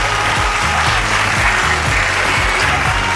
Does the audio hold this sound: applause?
yes